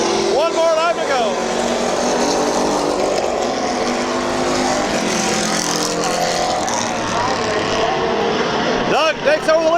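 Race cars roar around the oval at Midvale Speedway, a dense, continuous engine drone with rising and falling whines as cars pass, while an announcer talks over the racing throughout.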